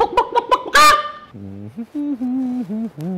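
Several loud, nasal squawks and honks from chickens come in a quick burst, then lower drawn-out calls follow, close by.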